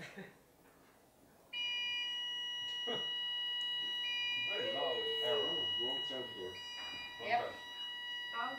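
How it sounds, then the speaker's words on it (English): A safety alarm starts abruptly and keeps sounding as a steady, piercing electronic tone with several layered pitches, while people talk nearby. "Oh, that's a safety alarm."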